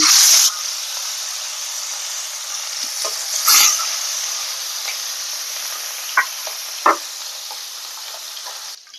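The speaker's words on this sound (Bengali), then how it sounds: "কড়াইয়ে তেল গরম হয়ে গেছে এবার আমি ভোলা মাছগুলোকে একে একে ভেজে নেব" Bhola fish fry in hot oil in a wok, giving a steady close hiss and sizzle with a few sharper spits and crackles throughout.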